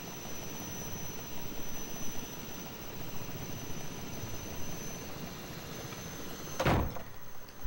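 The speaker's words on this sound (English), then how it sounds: "So Kay gets put on a helicopter" Helicopter in the video game Maken X, a steady loud rotor and engine drone that holds throughout, then ends in an abrupt burst of noise near the close.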